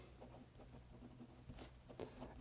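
Parker 51 fountain pen with a fine nib writing on a Rhodia pad, giving a soft, steady scratch of close strokes with a few brighter flicks near the end.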